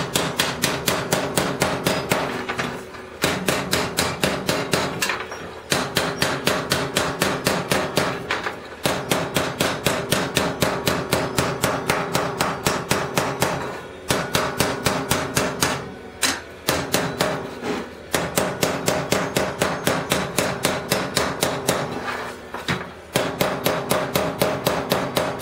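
A hammer strikes a metal chisel in a fast, steady stream of sharp close clanking blows, broken by brief pauses, while shaping parts for a scratch-built 1/10 scale crawler.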